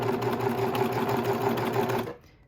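A serger sews a cuff seam, running at a steady, even, close-up whir for about two seconds before it stops abruptly.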